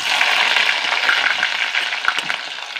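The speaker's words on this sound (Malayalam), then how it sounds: "ഇതിലേക്ക് ഞാൻ ഈ ഉള്ളി ഇട്ട് കൊടുക്കുക." Onion dropped into hot oil with mustard seeds and cumin sizzles loudly and steadily, a dense bright frying hiss with scattered small crackles and pops throughout, no voices.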